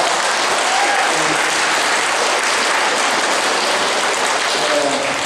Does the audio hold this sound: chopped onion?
no